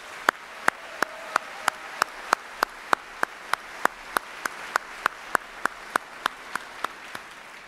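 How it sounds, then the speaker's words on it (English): Steady, evenly spaced claps at an Army retirement ceremony, sharp single strikes repeating at a brisk regular pace for several seconds with no voices. "Let's give them a round of applause"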